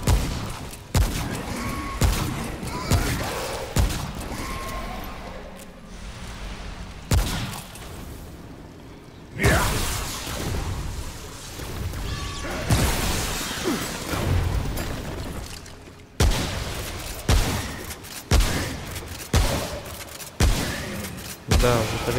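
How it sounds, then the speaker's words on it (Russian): Enemy gunfire in Remnant From the Ashes comes as repeated heavy shot bursts and booms in uneven volleys, some close and loud, separated by brief quieter gaps, with a voice talking at times. "он еще их стреляет"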